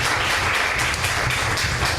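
A church congregation at a Telugu Christian prayer hall breaks into steady, loud group applause, hands clapping in praise, close and continuous throughout with no talk.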